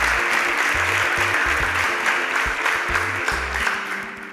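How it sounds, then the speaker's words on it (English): A studio audience claps steadily for finalists on a Nigerian competition show, continuous dense applause with low rhythmic music pulsing underneath throughout. "Please, a round of applause for my finalists."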